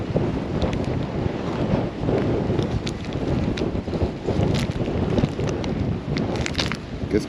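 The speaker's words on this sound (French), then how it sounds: "il y a beaucoup de vent" Strong wind buffets the microphone on a sea dike during surfcasting, a loud continuous rumbling roar with gusty surges and no pauses.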